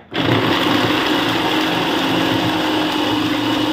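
A manual vegetable chopper cutting cabbage gives a loud, steady whirring and grinding that starts abruptly and runs without a break, with no voices present.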